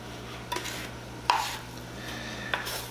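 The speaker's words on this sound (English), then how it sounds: "And then what I'm gonna do is stir this in." Spice is stirred into a bowl of flour for fried chicken. There are three distinct scraping knocks of a utensil against the bowl over a quiet background hum, with no talking.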